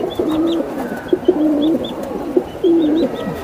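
Giribaz pigeons, including silver Giribaz, give repeated soft throaty coos in short phrases, loud and close, with faint chirps from other birds in the background.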